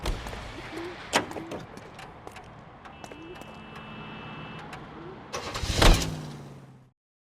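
Car engine cranks and starts in the video game L.A. Noire, then idles and drives steadily with a mid-pitched hum, rising into a loud rev near the end before cutting off; a few brief clicks and a voice line sound along the way.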